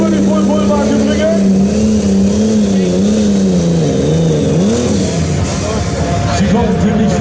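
A superstock tractor at a pulling event in Anholt roars under heavy load, its engine droning loudly with pitch wavering and surging as it strains; an announcer talks over it.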